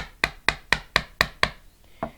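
A chisel chopping into fragile wood: six crisp, evenly spaced knocks followed by a softer seventh after a short pause, close and dry with no voices.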